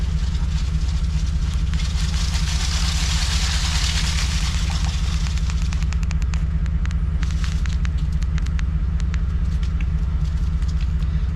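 Truck-mounted salt spreader with an empty spinner turning while the engine idles, a steady loud rumbling drone with a whirring hiss that fades and a few faint ticks, no voices.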